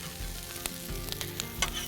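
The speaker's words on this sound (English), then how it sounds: "I love the sound of the onions sizzling on the Blackstone." Steady sizzling of onions frying on a hot Blackstone griddle, with a few scraping clicks and brief louder crackles, close and continuous with no talking.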